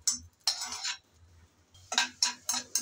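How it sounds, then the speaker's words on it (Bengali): Raisins fried in ghee and stirred with a utensil, giving bursts of scraping and clinking against the pan in an irregular rhythm, close and fairly loud with brief quiet gaps. "শুরুতে আমি ঘিয়ের মধ্যে কিশমিশ ভেজে নেব"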